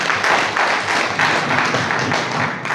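A crowd at a diocesan school launch ceremony in Kabale claps steadily for the chief guest, with sustained, fairly loud applause filling the whole stretch.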